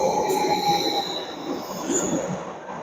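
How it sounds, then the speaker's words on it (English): A train pulling into a station on a UK line toward Ipswich, its wheels giving off a loud, continuous high-pitched squeal over a steady rumble, with no voices. "Right, this is the train."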